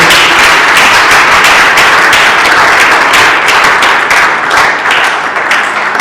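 A church congregation at a family forum claps loudly and continuously, a dense, close wash of hand claps sustained from start to finish with no talking over it.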